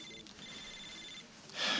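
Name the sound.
telephone ringing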